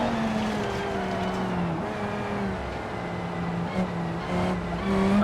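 European super saloon with a supercar engine driving in a video game, a sustained engine drone whose pitch rises and shifts through gear changes, close and continuous, no voices.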